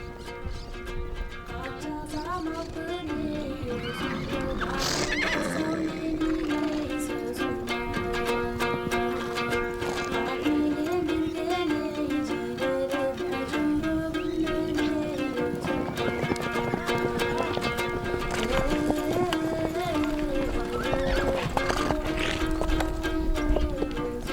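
Hooves clatter steadily across the ground from a running group of untamed horses being rounded up in Mongolia, with an occasional whinny and a persistent low hum underneath.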